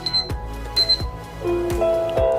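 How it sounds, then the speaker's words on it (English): A bright electronic alarm tone from a USCCE digital radio alarm clock plays in short chiming bursts, with a few clicks between them, clear and close, no voices. "So here's the alarm sound."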